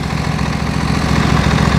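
A small lawnmower engine running loud and steady close by, a constant low droning hum while it tows a car.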